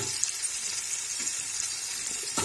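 Two large chopped onions for dum biryani sizzle softly in hot oil, a quiet, even crackle with faint stirring, and no one talks.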